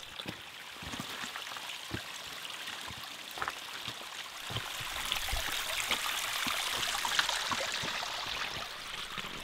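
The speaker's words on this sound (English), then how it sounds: "now, it seemed we also had to hike up a small waterfall as well." A small waterfall stream on a forested hiking trail in Kentucky's Red River Gorge trickles and splashes steadily at close range, a continuous wash of running water with no talking.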